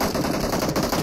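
Gunfire in PUBG Mobile, a dense rattle of rapid automatic shots lasting about a second, loud and close.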